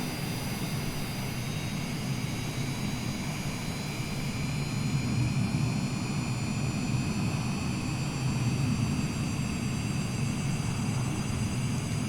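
A steady, loud jet engine roar with a high whine on top from a Cessna Longitude's number 1 engine in Microsoft Flight Simulator, running continuously without pause.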